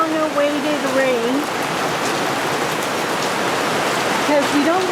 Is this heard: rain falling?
yes